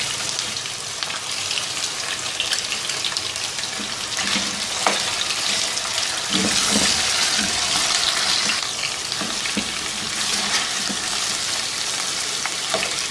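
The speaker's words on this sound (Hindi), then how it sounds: "अब इसमें ये जिंजर गार्लिक का पेस्ट और ये चिकन शामिल करके इसको तकरीबन 10 मिनट फ्राई करेंगे अच्छी तरह से।" Chicken pieces with ginger garlic paste fry in hot oil for a Shinwari chicken karahi, a steady broadband sizzle running throughout with occasional stirring scrapes and clinks of a utensil, fairly close and loud.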